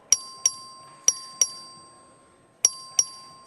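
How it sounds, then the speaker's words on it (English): Sharp bell dings ring out in the Texas House chamber as the clerk sounds the voting bell, six clear strikes in two uneven clusters, each ringing briefly before fading, with a faint room hum underneath. "The clerk will ring the bell."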